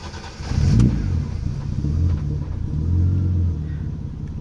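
A BMW E28 with its M20 engine fires up after fresh oil is added, a brief cranking burst followed by a steady, loud low idle that rises slightly before settling, close by.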